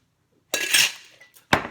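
Ice cubes clink and rattle into a glass while Vietnamese iced coffee is being made, a few close, bright clattering bursts with brief pauses between them.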